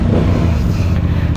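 A CF Moto 450 CL-C motorcycle on its stock exhaust, engine running loud and close with a steady, rumbling idle and no voices.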